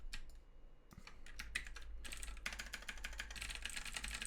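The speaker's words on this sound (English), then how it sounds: "it works if I just type on the keyboard" Fingers type on a computer keyboard nearby, scattered keystrokes at first, then a dense, rapid flurry of clicking keys.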